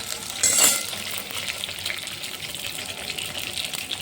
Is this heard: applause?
no